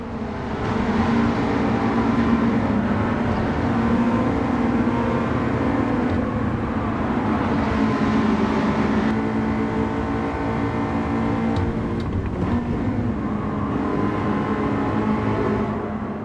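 Honda Type R EK9 and DC2 racing in Gran Turismo 7 on sport soft tyres, otherwise unmodified, a continuous loud high-revving four-cylinder engine drone with steady pitch shifts through the gears and no talk.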